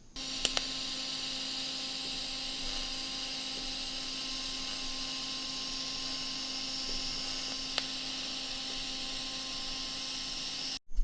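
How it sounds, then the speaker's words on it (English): Welding on steel drift steering knuckles for a Mazda Miata produces a steady, unbroken hiss with an underlying hum, running continuously for about eleven seconds before cutting off abruptly. "So I'm gonna go ahead and weld it now."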